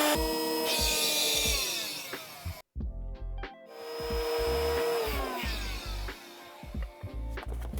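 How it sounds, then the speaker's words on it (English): An electric pump inflating a Luno AIR Pro front cab mattress in a camper van, a loud steady whirring drone that cuts out briefly and then starts again, with clicks and knocks throughout. "To inflate it, go ahead and insert the pump,"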